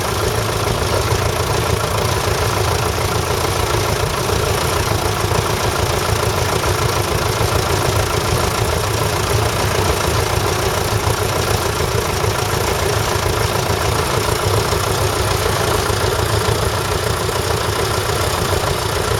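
A Massey Ferguson tractor engine idles steadily and close by at an outdoor agricultural show, a constant low rumble with a faint knocking rhythm and no voices.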